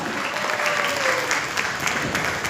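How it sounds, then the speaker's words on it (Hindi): An audience at a political rally with MP Dhullu Mahato on stage claps loudly. The applause is dense and continuous, a steady burst of many hands with no break. "सबके दमदार तालियां होनी चाहिए, आवाज गूंजनी चाहिए"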